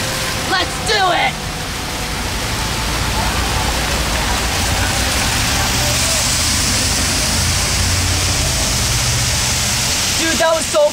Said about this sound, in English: See all that water down there?